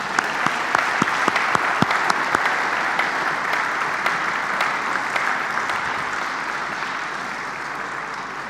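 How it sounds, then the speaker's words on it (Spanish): A church congregation claps for newly joined members during a Sunday service. Dense, steady applause fills the room for about eight seconds, with a few sharper claps early on, then eases slightly. "Les damos un aplauso a estos nuevos hermanos."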